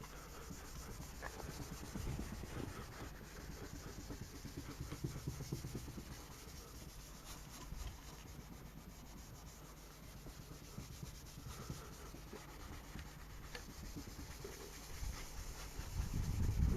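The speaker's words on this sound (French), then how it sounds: "celle-ci, on va pouvoir la déplier pour nettoyer le phare" A soft, steady rubbing as an impregnated cleaning wipe is worked across a car headlight lens, faint and continuous with light scratchy texture and no talking.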